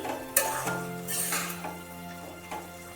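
A pan of banana flower with ghee being stirred, close spoon scrapes and clinks against metal over a low steady hum, a few sharper knocks scattered across the stirring.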